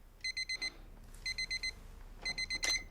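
A digital alarm clock rings in three bursts of rapid high beeps, four pips per burst, close and insistent against a quiet room.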